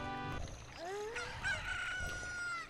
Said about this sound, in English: Look, a chicken hatched from the egg you were incubating.